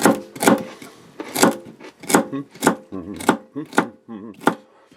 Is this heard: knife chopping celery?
yes